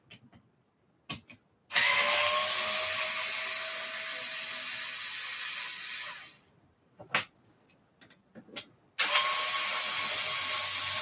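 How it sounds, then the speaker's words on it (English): A small Work Pro rechargeable lithium-ion cordless screwdriver whirs in two sustained, close runs of several seconds each, with clicks and handling noises in the gap between them and no speech. "I really like this little rechargeable cordless screwdriver."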